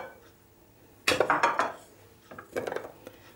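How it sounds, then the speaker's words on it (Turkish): Potatoes set into a rectangular Borcam glass baking dish, giving two short clusters of clinks and knocks against the glass, fairly close against a quiet room. "Borcamın tabanına patatesleri hemen koyuyorum."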